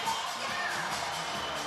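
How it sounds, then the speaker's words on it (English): Poland fans in a packed arena at a FIBA 3x3 basketball World Cup game, a dense, loud roar of cheering and shouting with no gaps. "I don't think the crowd helps. I can't hear myself."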